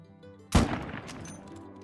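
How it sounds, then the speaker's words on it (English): A single loud 45-70 rifle shot rings out in a hunting video game after a quiet moment, with a sharp crack followed by a short, fading rumble. "now that they've spooked from the gunshot"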